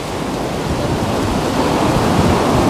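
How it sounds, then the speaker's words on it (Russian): Surf rolls in at Dalawella Beach, Sri Lanka, a loud, continuous broadband wash of waves close by, steady throughout with no voices. "Такой пляж Долавелла."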